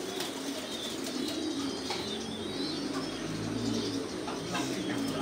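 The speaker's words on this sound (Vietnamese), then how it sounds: "ngay bây giờ thì trại Minh Dũng đã tiến hành bắt bồ câu cho những người nông dân" Pigeons coo at a pigeon farm while they are being caught, with soft repeated coos, chirps and occasional wing flutters over a busy, continuous flock background.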